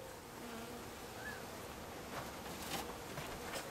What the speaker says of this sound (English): Now I just take the whole box of bees and I put it right into the hive